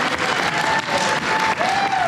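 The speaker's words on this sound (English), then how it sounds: "can we give a quick round of applause for this amazing" Audience applause at an Attack on Titan convention panel in Tampa Bay, a dense, steady clapping wash from a crowd with faint cheering mixed in, lasting a couple of seconds.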